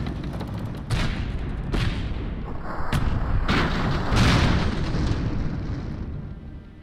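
Heavy explosions and booming cannon-like blasts from airships destroying each other in the video game Airships: Conquer the Skies, several loud impacts over a dense rumbling din.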